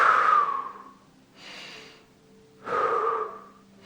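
Deep breathing during a morning exercise class, two long airy inhale and exhale cycles, loud and close, with a brief quieter breath between them.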